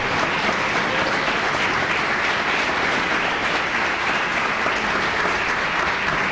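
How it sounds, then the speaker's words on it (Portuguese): A church congregation applauds steadily, dense continuous clapping at an even level with no pauses or voices standing out. "Se você acredita nisso, aplauda a Jesus Cristo."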